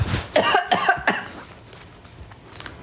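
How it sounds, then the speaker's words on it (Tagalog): A person coughs in a short burst of three or four harsh, close coughs, then trails off into quiet room noise with faint background sounds. "May ubo siya"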